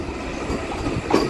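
MEMU train at Undi railway station, a steady rumble of wheels and carriages with a brief squeal near the end.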